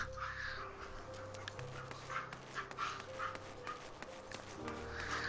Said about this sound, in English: I apologize again for the noise in the background. My dogs have decided it's time to play.